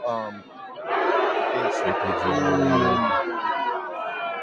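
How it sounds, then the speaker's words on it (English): A large crowd at a political event fills the space with a sustained murmuring roar of booing and chatter that swells and holds, under a person speaking close by. "the crowd is booing all these low"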